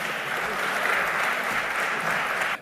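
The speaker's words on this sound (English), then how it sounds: "Let us welcome him with a huge round of applause." Large audience at the BioAsia 2024 event applauding to welcome a speaker, a dense, continuous round of clapping that holds steady and stops abruptly at the end.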